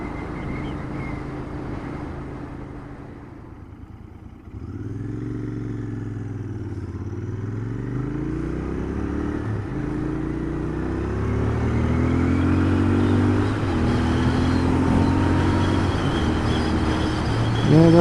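A Royal Enfield Interceptor 650 twin-cylinder motorcycle accelerates on a test ride. Its engine note rises smoothly through the gears with steady wind rush, heard from the rider's position, and it grows louder toward the end.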